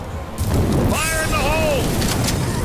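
A thrown explosive detonates in the zombie shooter game Left 4 Dead 2, a loud boom that swells suddenly and rumbles on, with a voice crying out over the blast.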